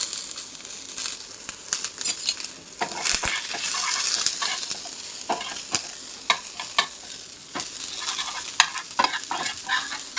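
Maggi noodles frying in a pan with egg and onion, with a spoon scraping and stirring in irregular strokes over a steady sizzle, close by, with no talk.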